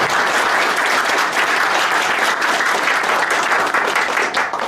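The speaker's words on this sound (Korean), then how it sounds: "우리 유익한 강의를 해주신 김명호 강사님께 다시 한번 큰 박수 부탁드립니다." A lecture audience at a Changwon court IT talk bursts into loud, dense applause for the speaker, a continuous wash of many hands clapping close by that holds steady and only dips slightly at the end.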